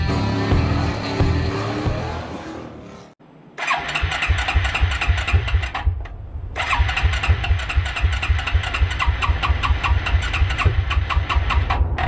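A cold Suzuki KingQuad 300 ATV engine cranks and sputters, stalls briefly, then catches and settles into a loud, close, rapidly thumping idle with a short dropout partway through.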